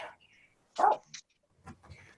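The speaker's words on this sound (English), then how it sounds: "Somebody's got a barking doggy." A Yorkshire Terrier gives a couple of short, sharp barks and yips, fairly close, with quiet gaps between them and a faint whimper-like sound near the end.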